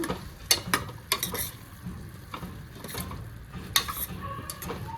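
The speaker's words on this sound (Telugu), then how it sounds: "ఇవన్నీ వేసుకొని కొంచెం కలుపుకోవాలి మంచిగా" A coriander and asafoetida mixture is stirred in a pan, a utensil clicking and scraping in irregular quick strokes over a low sizzle, close and with no voices.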